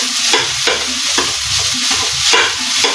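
Fried rice stirred in the same pan used earlier for frying eggs, a continuous loud sizzle with rhythmic scraping strokes of a spatula against the pan, close up and with no talking.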